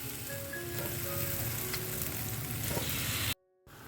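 Marinated mutton frying in spiced masala in a pan gives a dense, continuous sizzle with faint stirring scrapes, loud and close, cutting off briefly near the end.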